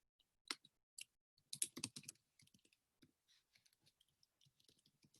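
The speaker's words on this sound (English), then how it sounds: "I'm typing it into the chat feature." Someone typing on a computer keyboard into a chat window, with quick irregular bursts of faint, close keystroke clicks, heavier at first and then lighter and sparser, with no talking.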